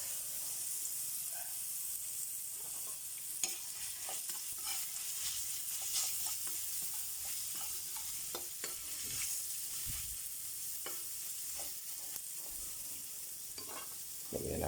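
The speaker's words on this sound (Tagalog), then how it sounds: "Meron tayo piniprito rito, yun o." Pork chop frying in a pan gives a steady, close sizzle with crackling pops and occasional stirring scrapes, continuous throughout and without talk.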